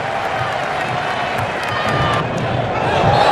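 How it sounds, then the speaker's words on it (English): A football crowd at a match against Australia murmurs and stirs with a rising roar, a dense, distant wash of voices that swells toward the end. "Every time the ball enters the Australian penalty area, there's a sharp intake of breath in the crowd."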